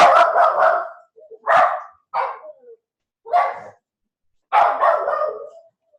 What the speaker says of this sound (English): My dogs are going crazy with the thunder.